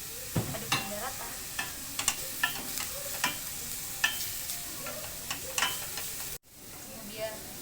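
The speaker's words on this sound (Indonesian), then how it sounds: "Sekarang masukkan wortel, kemudian daun seledri, aduk aduk hingga rata." Carrots and celery leaves sizzle in a frying pan while a utensil scrapes and stirs in regular strokes, the steady frying hiss breaking off abruptly near the end.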